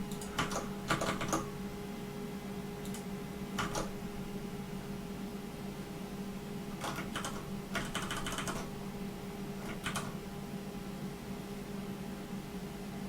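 Bursts of typing on a computer keyboard, quick clusters of key clicks separated by pauses, close and fairly quiet over a constant electrical hum from the computer.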